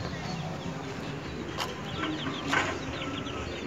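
Chickens clucking in a backyard coop, faint scattered calls over a steady outdoor hiss, with a couple of louder clucks.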